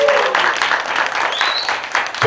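High school students at a church winter retreat applaud the teachers who prepared the recreation: a short, loud burst of dense, continuous clapping from a crowd in a hall.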